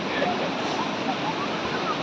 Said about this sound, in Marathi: एक्सप्लोर करूया होडकाळचा धबधबा